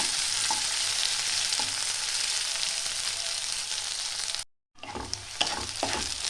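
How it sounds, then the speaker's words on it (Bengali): Chopped large onions fry in a pan for dim bhapa, a steady loud sizzle with occasional scraping stirs, briefly cutting out before the sizzling resumes, with no talking. "একটু হালকা করে নাড়াচাড়া করে ভেজে নিতে হবে।"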